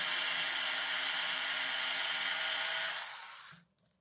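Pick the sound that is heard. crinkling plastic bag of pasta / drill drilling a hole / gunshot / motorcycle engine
drill drilling a hole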